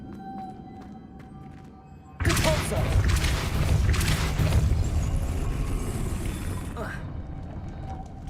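A Depulso spell cast in Hogwarts Legacy, landing as a sudden loud crashing burst of shattering and rumbling debris that holds for several seconds before cutting off, over a quiet ambient hum.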